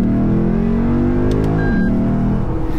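A Lexus IS F engine revs hard toward 7,000 rpm, its pitch climbing steadily and then dropping abruptly as the throttle is released, loud and close throughout.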